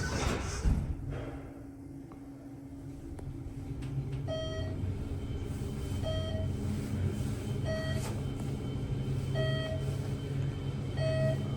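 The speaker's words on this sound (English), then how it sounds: "These sound like Synergy according to the brakes, but the elevator database says that these are ThyssenKrupp TAC 50 elevators." ThyssenKrupp TAC 50 traction elevator in a building in College Station, Texas, running with a steady low machine hum, an initial clunk, and a series of evenly spaced electronic beeps repeating every second or so.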